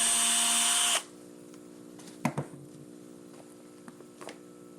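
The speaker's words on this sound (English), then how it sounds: "So now we'll drill a second hole." A power drill whines loudly for a second while drilling a hole in a hydration bag, then cuts out, leaving a steady hum with a few faint clicks and knocks.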